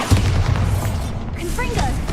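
A Bombarda blasting spell goes off in a Harry Potter video game, a loud booming burst with a dense low rumble and crackling debris, with spell-effect shimmer trailing over about two seconds.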